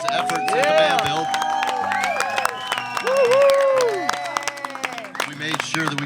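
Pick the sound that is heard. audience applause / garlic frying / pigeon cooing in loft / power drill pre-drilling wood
audience applause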